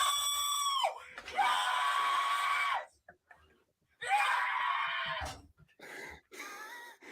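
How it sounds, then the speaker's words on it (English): A man screams loudly in celebration, several long, strained yells with short breaks between them, close and raw, cheering for the Miami Dolphins reaching the playoffs. "The initial scream is too good."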